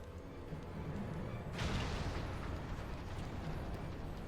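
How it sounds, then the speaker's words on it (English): Cannon fire in a ship battle in Final Fantasy XIV lands as one heavy boom over a dense, rumbling background of battle noise, trailing into a continuous roar. "All cannons, return fire."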